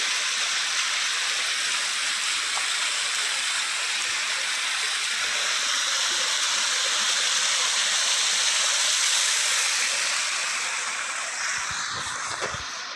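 Steady rushing roar of a waterfall beside Kumbichal Bridge Road in Amboori, fed by a stream flowing down from Kurishumala, constant and fairly near with no talk over it.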